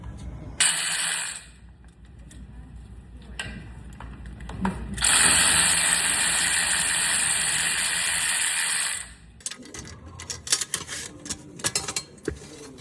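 A Wheel Wise backspacing tool assembled onto a 1972 C10 truck tire, with metallic clicks and rapid ratcheting bursts, the longest a steady whir lasting several seconds, then scattered knocks and clinks, no talk.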